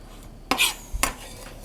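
A knife finely dices onion on a cutting board: two sharp, close chops about half a second apart, with quiet room tone and no talking.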